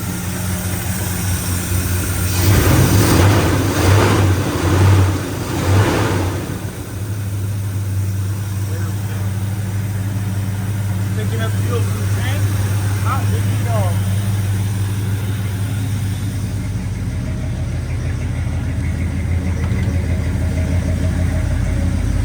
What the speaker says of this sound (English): Man, that's a good engine in this thing.